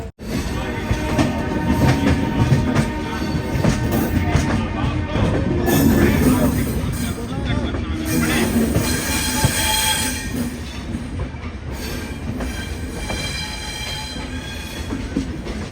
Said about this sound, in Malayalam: ഏഴ് 10 ട്രെയിൻ ഇതാ ഹസ്രത്ത് നിസാമുദ്ദീൻ റെയിൽവേ സ്റ്റേഷനിലേക്ക് എത്തിക്കൊണ്ടിരിക്കുകയാണ്